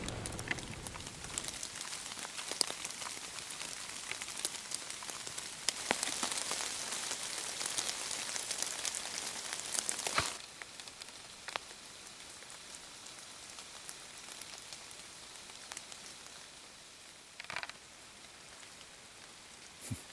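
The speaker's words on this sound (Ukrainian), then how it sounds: "дощ усилюється і усилюється" Rain falls in an autumn forest during mushroom foraging in Ukraine, a dense hiss of drops pattering on leaves and surfaces, heavier in the first half, then thinner, with scattered louder drops.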